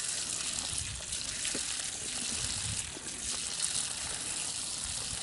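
Water from a Grundfos solar pump on a Tennessee mountain top rushing steadily, a constant broad hiss and splash at low level with faint scattered knocks beneath, no talk.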